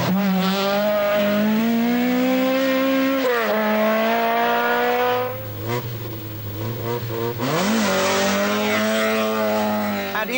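Rally cars race flat out along a stage of the 1982 RAC Rally, their engines loud and close, revving hard with pitch climbing and dropping through gear changes and a brief lull midway.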